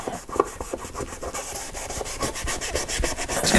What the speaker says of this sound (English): So it wants to be lightly sanded apparently before applying a second coat.